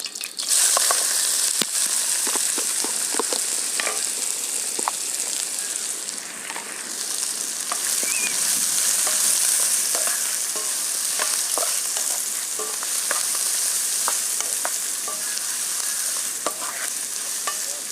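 Onions and whole spices, cinnamon bark and cloves, frying and being stirred in hot oil for a Hyderabadi chicken dish, giving a steady close sizzle with scattered crackles and spoon scrapes throughout.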